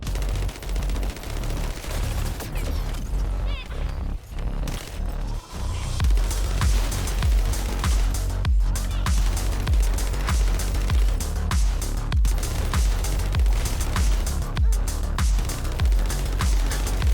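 Gunfire in The First Descendant video game: dense, continuous bursts of rapid shots and booming impacts, loud and close, layered over a constant low rumble with sharp transients throughout.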